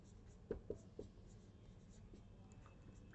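Pen or chalk strokes on paper or a board during a history lesson, three quick scratchy marks close together near the start, then faint scraping under a low background hum.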